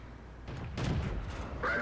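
Tank cannon fire in the World of Tanks video game, a muffled boom that swells midway and lingers over the game's low rumble, followed by a brief higher tonal sound near the end.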